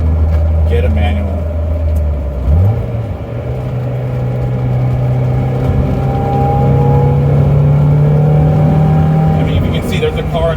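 A 1994 Mazda Miata's engine drones steadily from inside the cabin, its pitch dropping sharply during a gear change and then climbing gradually as the car accelerates through corners, with a faint background wash of road noise.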